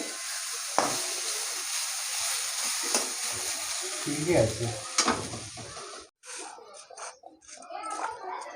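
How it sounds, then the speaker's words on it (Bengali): Potatoes fry in a pan for a morning snack with puffed rice, a steady sizzle broken by scraping stirs and clinks of a utensil, with a few brief voices in the background near the end. "এখানে আমি আলু ভাজা করছি"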